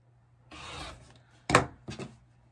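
Fabric strip for a quilt being cut, heard as a soft rasping slice followed by two short, sharper cutting strokes close up, with no voices.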